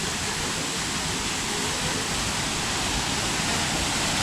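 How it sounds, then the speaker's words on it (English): A waterfall at a spring water pool in Gorse, St. Vincent, roars as a constant, dense wash of rushing water, close and loud, with no talk over it. "Look at waterfall over here."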